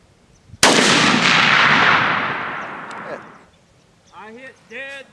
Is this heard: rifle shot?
yes